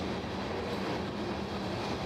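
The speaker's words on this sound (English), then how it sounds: "going downhill with a manifest train toward the Proctor Yard." A manifest freight train rolls downhill toward a rail yard, a steady, loud rumble of wheels and cars passing close by with no talk.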